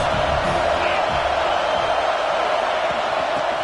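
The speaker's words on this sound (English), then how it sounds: "This crowd trying to make life miserable for this offense." A college football stadium crowd roars steadily and loudly for a USC game, a continuous wall of cheering and yelling with no break.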